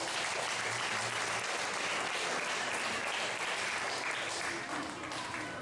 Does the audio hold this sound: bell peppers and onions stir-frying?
no